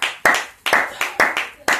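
A congregation clapping in acclamation at a French-language church service: five rhythmic, fairly loud claps of many hands, evenly spaced, with a roomy echo and no talk.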